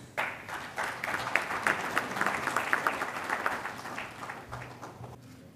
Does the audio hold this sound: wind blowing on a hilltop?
no